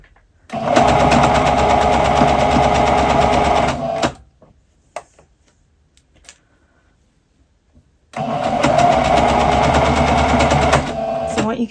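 A sewing machine stitches a dressing gown in two long steady runs of loud whirring hum, with a quiet pause between them and faint handling clicks.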